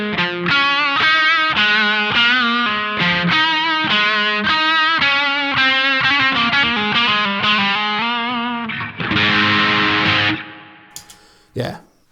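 An electric guitar played through a T-Rex Dr Swamp distortion pedal rings out in crunchy rock chords and lead notes. A loud, saturated burst follows near the end before the tone cuts off, with no talking.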